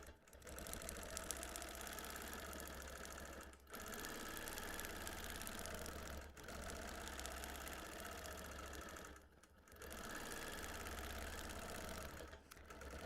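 A longarm quilting machine stitches over appliqué in long, steady, loud motor-driven runs with a rapid needle rhythm. The runs are broken by three brief pauses.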